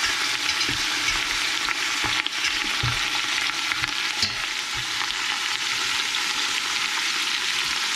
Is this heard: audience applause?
no